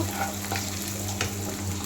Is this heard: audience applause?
no